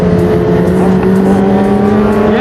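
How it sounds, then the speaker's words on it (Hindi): A Kawasaki Ninja 1000 and a Suzuki Hayabusa superbike ride close by on a Sunday group ride, a loud continuous engine drone holding steady with a strong low hum, no voices. "इट्स निंजा 1000 एंड इसके आगे इट्स हायाबुसा"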